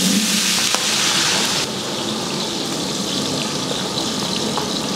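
Two kilograms of large onions added to hot oil and ghee with whole spices, frying in a big batch of chicken biryani for sixty people at an old age home, a loud steady hiss that drops slightly in level partway through.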